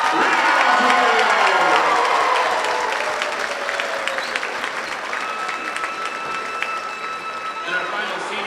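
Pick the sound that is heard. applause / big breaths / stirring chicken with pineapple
applause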